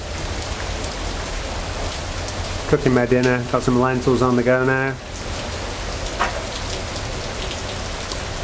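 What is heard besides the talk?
heavy rain falling around a campsite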